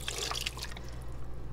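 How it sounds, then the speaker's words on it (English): Sauce being poured from a container over pork chops in a home kitchen, a soft, wet splattering and dribbling at close range with no talking. "my sauce is all ready, so I'm just going to pour that all on top of there"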